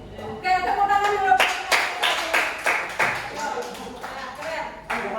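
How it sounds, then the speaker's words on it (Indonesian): A classroom of students claps hands together in a burst of sharp, loud claps close by, rising then fading into scattered claps; a voice is heard briefly at the start. "Oke, tepuk tangan dulu."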